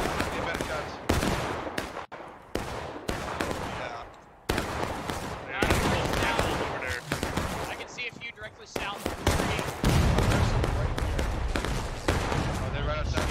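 Musket volleys crackle from a line of soldiers in War of Rights, repeated sharp bursts and scattered shots in quick succession, loud and near, with shouting voices mixed throughout.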